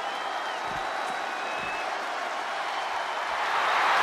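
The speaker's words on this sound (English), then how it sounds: "The crowd is fired up." A wrestling arena crowd in the WWE 2K24 video game roars and applauds in a dense, continuous wash of noise that swells louder toward the end, during a John Cena vs. Undertaker casket match.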